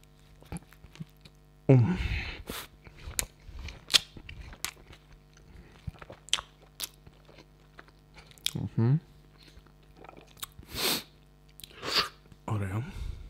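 Bites and chewing on a Goody's BBQ pulled beef burger with cheddar, close and crisp: a loud first bite followed by irregular wet chewing and crunchy bites spread throughout, with no talking.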